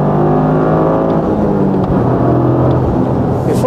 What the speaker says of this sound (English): I really like the noise, actually, and the vibration from the three-cylinder engine.